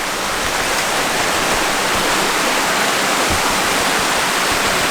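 A waterfall pours in a constant, loud roaring rush of water, dense and unbroken from start to finish.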